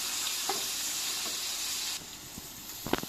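Two onions fry in a pan until golden, giving a steady close hiss of sizzling oil that drops slightly partway through, followed by a few light stirring knocks. No talking.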